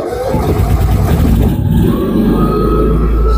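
A Honda canopy generator's engine catches and settles into a loud, close, steady running drone with a rising mid-range tone, with no voices.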